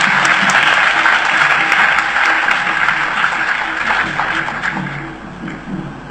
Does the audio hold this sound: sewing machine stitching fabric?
no